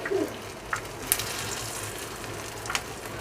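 Potato sticks frying in hot oil make a continuous close sizzle, broken by a few sharp pops and spits of splattering oil.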